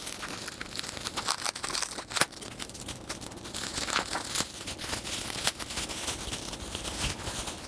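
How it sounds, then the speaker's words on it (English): Plastic and paper packaging from a book subscription box crinkles and tears as it is unwrapped by hand, close and quiet, with irregular rustles and a few sharper rips. "Now let me unwrap it."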